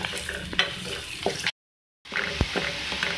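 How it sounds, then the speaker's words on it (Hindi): Onions fry in a pan with a continuous sizzle and intermittent stirring scrapes and clicks, broken by a short moment of complete silence before the frying resumes with a soft knock. "प्याज डाल दें आप, और इसका थोड़ा फ्राई करें"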